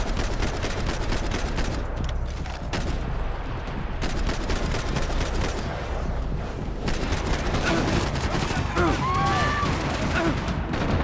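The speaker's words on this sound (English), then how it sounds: "Look, you can shoot the signs." Rapid, dense gunfire in Max Payne 3 as signs are shot up, a nearly continuous stream of loud, close shots with little pause across the whole stretch.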